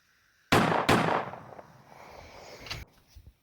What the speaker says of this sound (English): The whole family's out there shooting.